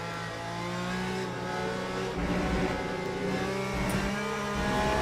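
A race car engine from the Le Mans Ultimate sim racing game, GTE class, holds a steady droning revving note with harmonic layers that swell and shift as it accelerates, loud and continuous throughout with a faint tyre squeal underneath.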